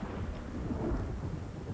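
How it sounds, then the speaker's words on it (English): Rain and thunder in the video game Project Zomboid, a steady low rumbling wash of rain and distant thunder, faint and continuous with no talking. "Oh, it is raining."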